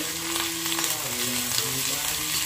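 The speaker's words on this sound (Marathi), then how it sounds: "आता जरा थोडंसं अद्रक फ्राय करायचं आहे तेलामध्ये" Ginger frying in hot oil for sambar gives a continuous close sizzle with a few light stirring sounds, steady and moderately loud, with no voices.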